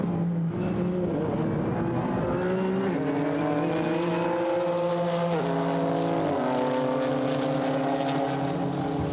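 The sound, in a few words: GT4 race cars racing at Paul Ricard circuit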